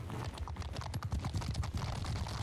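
Cavalry horses in the video game Mount & Blade II: Bannerlord thunder past as a dense, rapid drumming of many hooves, loud and continuous throughout.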